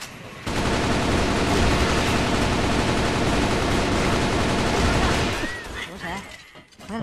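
Rapid gunfire in the mobile shooter CrossFire Mobile, a loud, dense burst of overlapping shots lasting about five seconds before cutting off, followed by quieter game sounds and faint voices.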